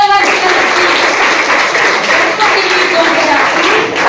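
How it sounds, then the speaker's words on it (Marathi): Classroom of children applauding during a Marathi school quiz on memorization, a steady wash of clapping with some voices mixed in, fairly close and continuous throughout. "टाळ्या"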